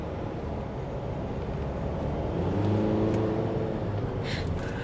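A JAC T9 pickup accelerates, heard from inside as a steady low engine drone with road rumble that swells slightly midway, continuous and fairly loud.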